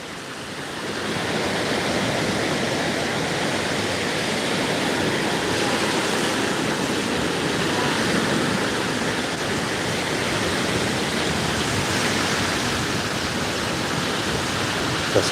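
Ocean waves wash onto the beach at Marco Island, Florida, at sunset, making a steady, loud, broadband roar of surf that continues unbroken for the whole stretch, with no voices over it.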